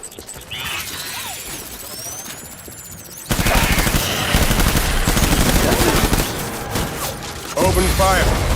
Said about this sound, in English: I'm literally releasing entire clips into this dude